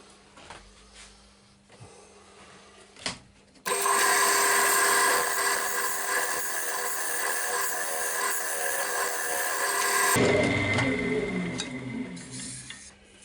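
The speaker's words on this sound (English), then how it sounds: "So I'll get my round carbide cutter and just give it a couple of passes over there" Round carbide cutter passing over a spinning padauk wood box on a lathe, a loud steady scraping whir lasting several seconds, starting and stopping abruptly between quieter workshop sounds.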